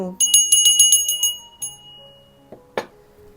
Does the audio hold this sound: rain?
no